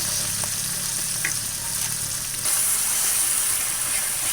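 Tomatoes fry in a pan with steady sizzling and hissing, briefly stirred partway, the sizzle rising brighter and louder midway and continuing close and alone.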